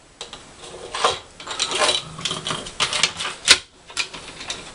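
Small snips and clicks from cutting the wiring on a Faller Playtrain railbus electric garden locomotive, with an irregular run of close, light metallic cuts and taps and no talking.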